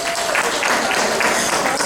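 Audience at a charity event with a nun-costumed host answers a raffle-ticket show of hands with a short, loud burst of clapping, a dense crowd wash with faint voices mixed in.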